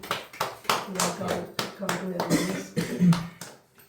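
Scattered claps from a small gathering on Sonapur beach during a youth membership welcome, sounding as a few sparse, uneven hand claps mixed with ongoing talk and background chatter.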